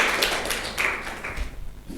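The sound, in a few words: classroom applause for group 3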